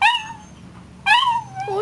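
A dog being scolded gives a close, high whimpering whine, breaks off briefly, then lets out a second rising yip and whine, loud and nearby with no talking.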